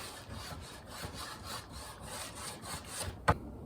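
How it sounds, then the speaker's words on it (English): A brush spreads glue across wood in repeated back-and-forth rubbing strokes, a soft, close scratchy rhythm ending with a single sharp knock. "And we just take our brush, might need to get another brush, kind of spread our glue so it's nice and even."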